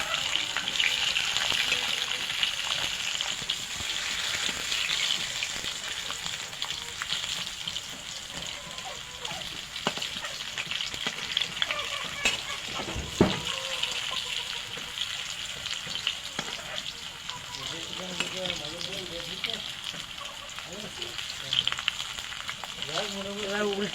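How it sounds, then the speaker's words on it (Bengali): Radish slices frying in a pan, a steady loud hiss of oil with occasional scrapes and turning sounds, close and continuous, with a voice talking now and then over the sizzle. "এবার উল্টে পাল্টে এভাবে ভেজে নেব"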